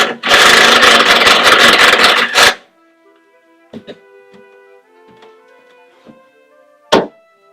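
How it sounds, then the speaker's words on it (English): A drill drives a bolt into a wooden cornhole board leg in a loud, rattling burst lasting a couple of seconds, followed by quieter clicks, taps and a final sharp knock. "if you hold the nut on the back with your hand, you can just use your drill to drive it in"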